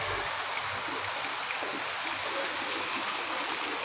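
Heavy monsoon rain pours down with running water, a dense, even hiss that fills the whole moment without a break and with no voices.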